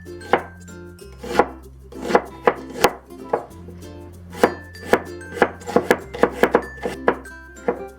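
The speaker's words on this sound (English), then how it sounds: "let's mince the yellow onion" A knife mincing yellow onion on a cutting board, sharp irregular chops close up, sometimes in quick clusters, with no talking.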